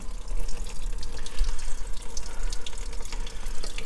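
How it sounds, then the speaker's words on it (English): Coolant draining from a Ford 7.3 Powerstroke diesel through a plastic petcock, a continuous close splashing pour of liquid, steady and unbroken, with no talk over it. "draining the coolant."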